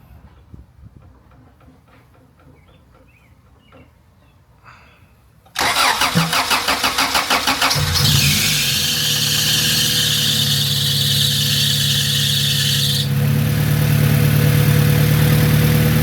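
A B-series engine cranks and fires after quiet ticking, then idles loudly while an overtight belt squeals, first as a sharp screech that eases off into a steady whine over the running engine.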